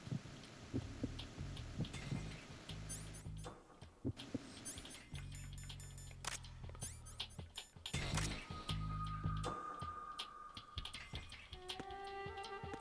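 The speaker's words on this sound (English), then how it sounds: "It sounded different than a normal heartbeat." Heartbeat-like pulsing in Metal Gear Solid 2: Sons of Liberty, heavy low thumps repeating in a steady rhythm among layered game ambience and music, with no talking.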